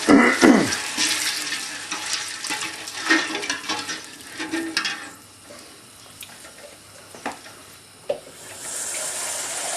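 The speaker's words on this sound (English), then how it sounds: "and with that litre of cold water" A litre of cold water poured into a garlicky curry base in a pan at an Indian takeaway, a splashing gush with sizzle up front that settles into quieter bubbling over about ten seconds.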